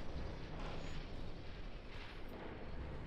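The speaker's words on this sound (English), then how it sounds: "I heard gunfire somewhere." Naval gunfire from distant warships in the game Ultimate Admiral Dreadnoughts, a steady low rumble of far-off cannon fire with no clear individual shots.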